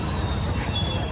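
Heavy city road traffic rumbles in a dense, steady low wash of engines, with a faint high whine overhead and no voices.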